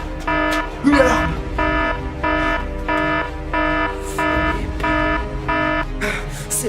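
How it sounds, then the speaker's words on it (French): An alarm rings in steady, evenly spaced electronic bursts, loud and continuous, while a voice briefly calls out near the start. "Une alarme!"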